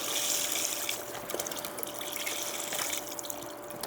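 Chicken broth pouring into a pot of dal, a steady liquid splash and trickle heard close up, with no talking.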